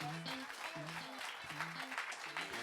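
A studio audience claps after a number from the stage musical Marilyn, a quiet, even wash of applause over a rhythmic low musical backing.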